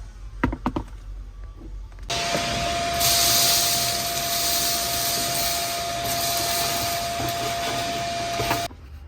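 A vacuum switches on after a couple of knocks and runs steadily at close range with a whining tone, sucking debris out of a Nissan 350Z fuel tank, then cuts off near the end.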